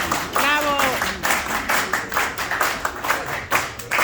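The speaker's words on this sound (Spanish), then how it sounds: "Volvamos a dar un fuerte aplauso" Audience applause at a gathering, a crowd clapping loudly and steadily in a dense rhythmic patter, with a brief voice cheering near the start.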